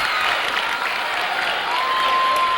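A high school basketball crowd at a holiday classic championship game, clapping and cheering loudly in a dense, continuous roar that fills the gym, with a voice faintly underneath.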